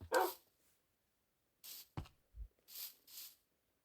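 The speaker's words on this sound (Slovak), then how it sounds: "Tu už som videl psov" Dogs in the video game Minecraft give a few short, sharp barks spaced apart with quiet gaps between, fairly faint and alone.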